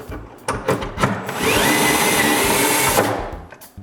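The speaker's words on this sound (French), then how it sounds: "Je perce donc une série de trous pour pouvoir la mettre à plusieurs hauteurs." A power drill bores a series of shelf-pin holes in a wooden miter saw cabinet, with short clicks and knocks first, then one loud, steady whirring run of about a second and a half close by before it stops.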